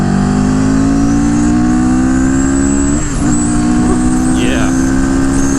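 A CFMOTO motorcycle rolls on from about 4,000 rpm, its engine droning loud and steady, the pitch climbing gradually as it accelerates, with wind rush throughout and a brief dip midway.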